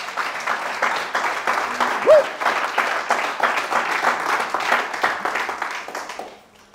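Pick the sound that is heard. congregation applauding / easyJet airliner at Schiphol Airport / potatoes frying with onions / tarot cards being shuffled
congregation applauding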